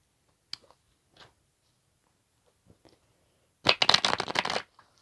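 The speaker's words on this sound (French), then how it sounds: "je vais un peu brasser les cartes" A deck of cards is shuffled close up in a quiet room: a few soft taps and handling clicks, then one brisk riffle lasting about a second.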